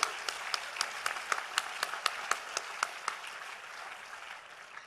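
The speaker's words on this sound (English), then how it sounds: "Please give them a big applause, please." Audience applause at a live ethnopharmacology research talk, scattered claps that are distinct at first and then thin out and fade, moderately loud in a room.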